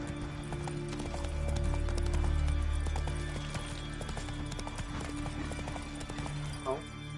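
Hooves of a horse clip-clopping in The Witcher 3 video game, a steady close rhythm over a low game hum and background music, with a brief voice near the end.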